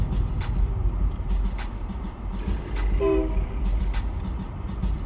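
A train rolls past nearby with a continuous rumble and rhythmic clatter, and a brief horn tone sounds midway.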